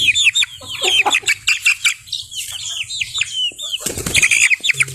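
Young stag roosters in a backyard flock crow in rising, hoarse calls and cluck busily, with wing flaps and scattered chirps, several birds close by and sounding one after another without pause.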